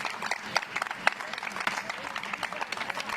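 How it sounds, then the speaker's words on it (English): An audience claps after the race results at a Laguna Seca challenge event, light scattered applause at moderate distance, mixed with an announcer talking. "Round of applause indeed."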